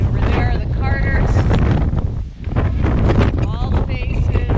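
Strong wind buffets the microphone at a rocky mountain summit, loud roaring gusts that dip briefly near the middle before surging again, with no one talking.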